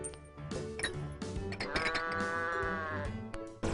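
A goat bleating in the video game I Am Bread: several wavering, nasal bleats in quick succession, one drawn-out cry in the middle, close and fairly loud with no talking.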